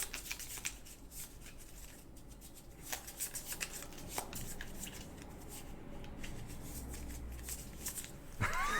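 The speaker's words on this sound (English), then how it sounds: "I always bridge shuffle my cards." Playing cards being bridge shuffled for the board game Oath, quiet riffling and soft card taps at close range, a run of brief rustles ending in a louder riffle.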